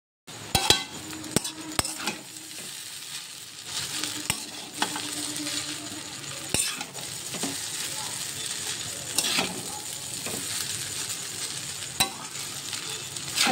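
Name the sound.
chow mein frying and being stirred in a pan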